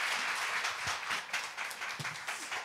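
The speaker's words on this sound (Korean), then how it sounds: "잘 오셨다고 우리 환영의 박수로 우리 목사님 맞이하겠습니다." A church congregation claps in welcome for a new pastor, a soft, continuous ripple of applause with scattered sharper claps, fairly distant and quiet.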